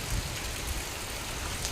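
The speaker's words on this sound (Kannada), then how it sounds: "ನೋಡಿ ಇವತ್ತು ಎಷ್ಟು ಜೋರು ಮಳೆ ಬರ್ತಾ ಇದೆ ನೋಡಿ, ತುಂಬ ಕತ್ತಲಾಗಿದೆ." Heavy rain pours down steadily on a dark afternoon, a dense, even roar of drops hitting surfaces close by, with no voices over it.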